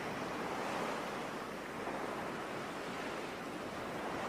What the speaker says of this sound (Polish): Słyszysz teraz szum fal.